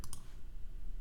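Two quick computer mouse clicks at the start, with another click at the end, each sharp and close. They are heard over a quiet room, and nobody speaks.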